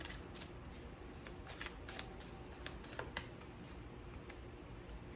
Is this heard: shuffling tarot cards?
yes